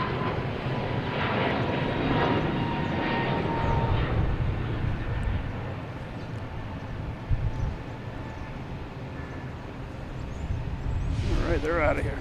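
American Airlines Airbus A321neo jet engines at Boston Logan, a continuous loud rumbling roar that eases slightly midway and then swells again, with speech mixed in.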